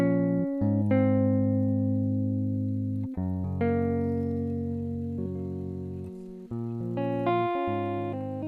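Afrobeats guitar preset from a Kontakt library in FL Studio, plucking short melodic phrases. Each bright note rings out and decays, with brief pauses between groups of notes and nothing else playing.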